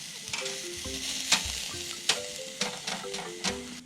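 Frozen lamb ribs sizzle on a grill, a steady crackling fry with sharp spitting pops, heard close while a tonal melody plays faintly underneath.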